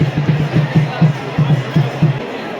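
A packed crowd at Nirai Mata temple in Gariyaband, Chhattisgarh, fills the air with close, lively hubbub, voices and shouts rising over a rhythm of repeated thumping pulses.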